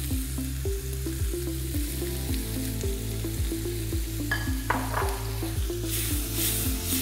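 Prawns and vegetables sizzle steadily in a pan while being stir-fried, a continuous crackling fry with regular stirring scrapes and a light clink of utensils.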